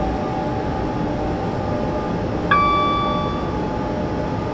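Train in Train Simulator 2017 on the South London to Brighton route, a steady rail rumble and hum at a station, with a sudden bright tonal chime or horn-like ring midway that slowly fades, and no talking.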